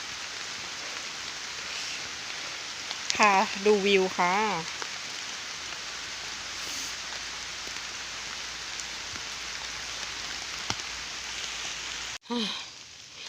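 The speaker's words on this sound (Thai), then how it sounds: "ตอนนี้ฝนก็กำลังตกอยู่" Steady rain hisses evenly throughout, close and continuous, in a forest in Tak Province, Thailand, while someone speaks briefly over it; a sharp handling thump comes near the end.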